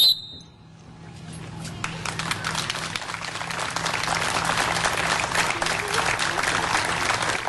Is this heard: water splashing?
no